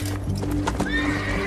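A horse neighs with a rising whinny while hooves clip-clop on the ground nearby, a close and steady sound with no speech over it.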